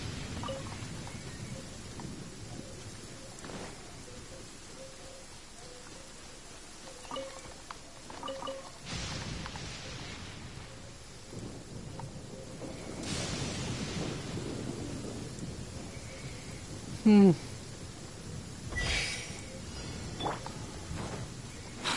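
Low rolling thunder rumbles over steady rain in a video game, with sharper cracks breaking through the hiss. No one speaks.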